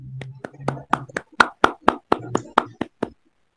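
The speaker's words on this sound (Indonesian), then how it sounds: "beri tepuk tangan untuk kelompok pertama semuanya" A class claps for the first presenting group, about a dozen distinct sharp claps in an uneven rhythm that stop abruptly, close and fairly loud with a faint voice early on.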